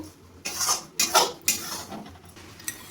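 Gram flour roasting with ghee in a pan for besan laddu is stirred in a few quick scraping strokes, a spoon clinking and scraping against the metal pan up close.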